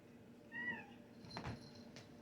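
A cat meows once at moderate distance, a short rising-falling cry, followed by a soft clatter or rustle in a quiet room.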